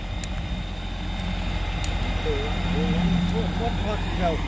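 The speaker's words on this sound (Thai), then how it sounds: "เรือลากจูง" A deep, steady tugboat engine drone rumbles continuously, with faint whistling and clanking sounds drifting over it.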